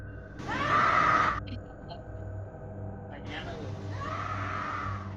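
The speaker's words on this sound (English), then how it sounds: "You can hear a woman scream." A woman screams at night outside a nightclub at closing time, a loud, strained cry lasting about a second, then a second, softer wailing shout follows after a pause over a low steady background hum.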